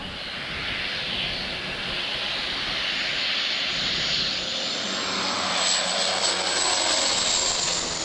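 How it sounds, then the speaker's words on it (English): A firefighting airplane roars low over a burning truck in Canada, its engine drone loud and steady with a rising whine as it passes overhead, with no talk. "A plane was called in to put out this truck fire in Canada."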